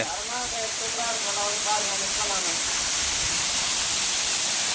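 Water rushing down a newly formed waterfall at Puthur Nadu, a steady loud roaring hiss with a voice speaking over it early on.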